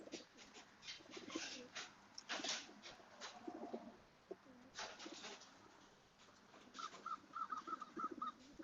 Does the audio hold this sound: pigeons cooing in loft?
yes